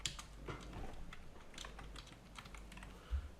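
Typing on a computer keyboard from an everyday keyboard and mouse combo, a quiet run of quick irregular key clicks with one slightly heavier press near the end, no voices.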